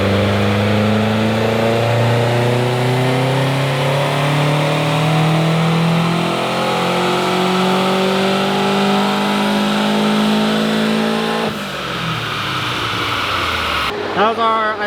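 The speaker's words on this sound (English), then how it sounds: "That was I think our first pull." A tuned Subaru WRX STI on a dyno pull revs up in one long, steadily climbing engine drone, loud and close, then drops off sharply near the end as the throttle closes.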